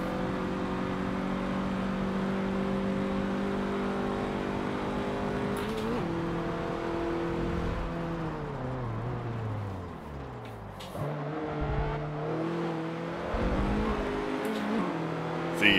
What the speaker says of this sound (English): You can hear it going right into third gear.